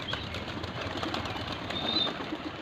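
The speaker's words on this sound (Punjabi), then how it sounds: "ਆਪਾਂ ਵੀ ਕਬੂਤਰ ਉਡਾਉਣ ਲੱਗੇ ਆ" Pigeons take flight at dawn, their wings flapping in a continuous soft flutter over steady outdoor background noise.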